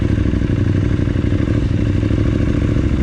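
An adventure motorcycle rumbles steadily through a corner on an enduro training ride, its engine loud and close with a constant low throb and some clatter, no voices over it.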